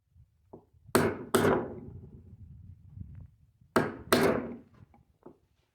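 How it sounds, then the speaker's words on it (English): Four hard knocks of a hammer driving a glued hardwood bow tie into a salvaged live oak table, in two close pairs, with light tapping and handling noises between them; no talking. "I just put in some glue and then hammer it into place"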